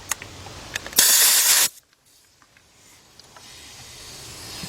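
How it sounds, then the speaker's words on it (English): A handheld brake bleeder pulls fluid out of a 2005 Chevy Impala brake reservoir, heard as a few clicks of the pump and then a sharp, loud hiss of suction lasting under a second before the sound drops to near silence. "So I'm using a brake bleeder to take this fluid out."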